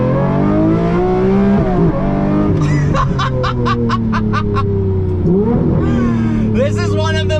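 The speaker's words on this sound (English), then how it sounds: "That naturally aspirated V12 is absolutely absurd." A Lamborghini Murcielago SV's naturally aspirated V12 idles and revs loudly, with rising and falling engine pitch and a burst of rapid throttle blips, while people talk and chuckle over it.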